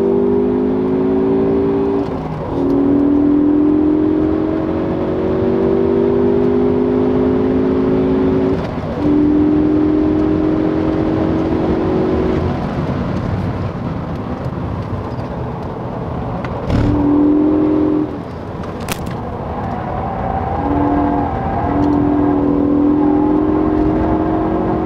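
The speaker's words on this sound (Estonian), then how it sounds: "Võtame siit nõela silmakurvi teise käiguga." A Ford Focus ST engine pulls hard through a hairpin on a race circuit in second gear, a steady loud drone rising and falling with brief lifts around corners, close and continuous with no talk.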